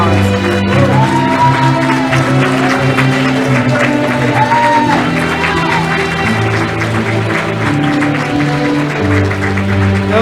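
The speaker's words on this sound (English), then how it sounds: "Let's give them another round of applause." A graduation celebration crowd cheers and applauds its graduates, loud and continuous, with shouts and whoops rising over a dense mix of clapping and festive music throughout.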